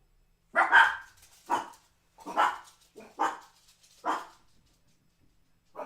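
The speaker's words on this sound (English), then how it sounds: "Sorry for my dogs barking in the" Dogs bark in short, sharp bursts, about six of them spaced irregularly, nearby indoors with quiet gaps between.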